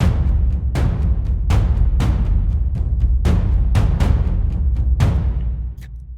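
A percussion groove of sharp, bright hits repeating in a steady loop, with the accents shifted onto different beats to change its feel; close and loud, no voices.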